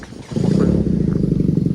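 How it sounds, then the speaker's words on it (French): A motorcycle goes past at a seaside car-spotting meet in Deauville, its engine swelling in after a quiet moment into a steady, loud rumble that holds to the end. "Ça c'est une moto"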